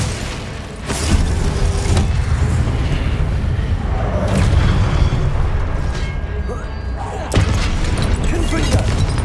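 Hogwarts Legacy gameplay with the Glacius ice spell being cast brings loud booming impacts and bursts over a dense, rumbling battle soundscape, with a person's voice speaking over it.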